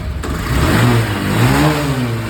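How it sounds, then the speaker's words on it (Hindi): A Honda Shine BS6 motorcycle, just repaired after a no-start ECU fault, catches and revs up; its engine drones loud and close and rises in pitch, with steady workshop noise behind it. "अभी देखो दोस्तों, आपकी नई गाड़ी स्टार्ट हो जाएगी।"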